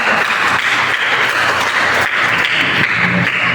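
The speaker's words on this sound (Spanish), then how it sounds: "aplauso al hermano" Applause from a church congregation for a brother, a steady, loud wash of clapping that holds evenly for a few seconds.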